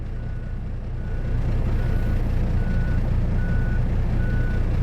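A wheel loader works in a factory yard, its diesel engine rumbling loud and steady while a reversing alarm beeps at regular intervals over it, with no voices.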